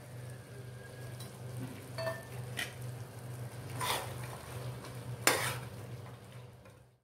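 Boiled butter beans and peanuts are stirred in a pan, with soft scraping and clinks of a spoon against metal over a faint background sizzle, a couple of louder scrapes standing out.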